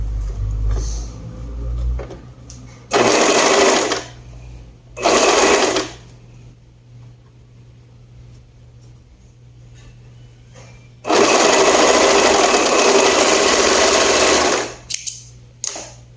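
A two-needle sewing machine stitches a blouse with a chimney neckline and Japanese sleeves. It runs in three loud, close bursts: a short one, a second brief one, then a longer run, with quiet pauses between.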